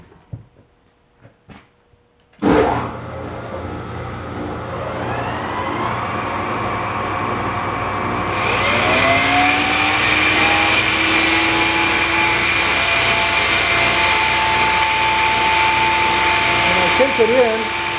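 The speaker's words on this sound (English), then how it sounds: "this grinder makes a bit of noise" A bench grinder spins up to a loud steady whine and grinds a metal punch, a continuous harsh tone with rising and falling pitch as the steel is pressed against the wheel, close and sustained.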